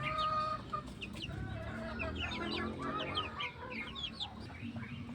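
Texas and native chickens kept as backyard poultry clucking continuously, a busy overlapping chorus of calls at close range with no talking.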